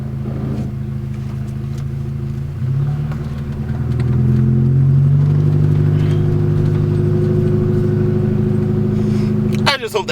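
A 1990s Volkswagen GTI engine hums steadily and then revs higher as the car pulls away, loud and close, with a rattling thump near the end.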